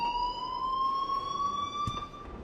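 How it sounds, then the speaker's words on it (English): An electronic alarm blares in the video game Life Is Strange, a steady high tone that rises slightly over two and a half seconds against a dull background hum, with no voices. "please turn off that alarm since that's your job"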